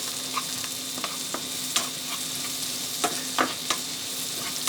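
Chopped onion stir frying in butter in a pan, a steady soft sizzle with several louder scraping stirs and clicks from a utensil scattered throughout, close and alone without talk.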